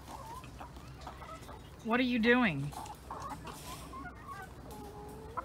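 Backyard chickens cluck and squawk nearby, with one loud burst of excited clucking in the middle, while a person speaks briefly and outdoor ambience continues underneath.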